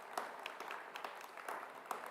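A small group claps steadily at a dental program pinning ceremony, a quick burst of applause with a fairly even patter, moderately loud in a room.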